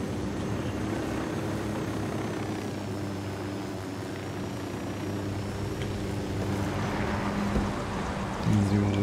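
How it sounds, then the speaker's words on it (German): A surveillance drone flies in the video game Ghost Recon Wildlands, its steady rotor whir droning continuously and fairly loud over game ambience for the whole stretch. "Drohne fliegt"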